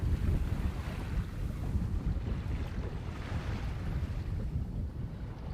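A boat gets underway on open water off the Puerto Vallarta coast, giving a steady broadband rush of wind and water, with heavy wind buffeting on the microphone and no voices.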